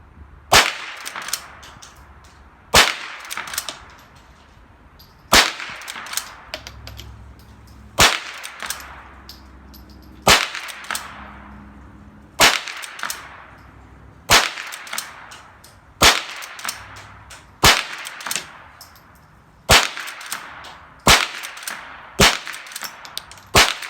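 Henry .22 lever-action rifle firing Mini Mag rounds in quick succession, about a dozen sharp cracks with metallic clacks of the lever cycling between shots, close and loud.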